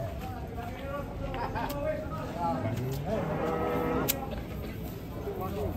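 A cow being weighed lets out a low, drawn-out moo amid people talking nearby, with scattered clatter in the background.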